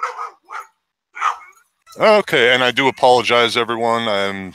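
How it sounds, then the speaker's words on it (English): Dogs barking outdoors, several loud close yips and barks overlapping in a rapid burst after a few soft sounds, with a person talking briefly just before the barking. "so I'm outside with the dogs, so you will hear them barking,"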